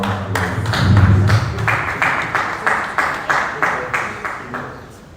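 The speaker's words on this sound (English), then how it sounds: "So let's give him a round of applause." Applause at a university health students' association ideal CEO semi-final event, beginning under a murmur and settling into a rhythmic unison clap of distinct, evenly spaced beats that gradually fade.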